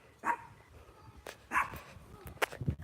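Dogs bark in the video game Water Simulator: three or four sharp barks spaced out over a few seconds, fairly quiet, with light clatter and background noise between them.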